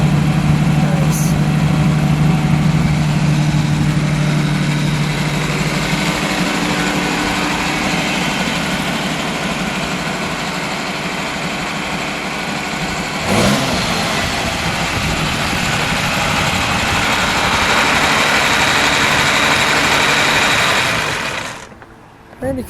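A 1965 Lamborghini 350 GT V12 idles close by with a steady, smooth, throbbing drone, shifting slightly in pitch partway through before cutting off abruptly near the end.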